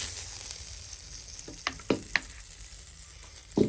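Butter melting down into ghee in a pan in a village kitchen, a soft steady sizzle broken by a few sharp pops and clinks.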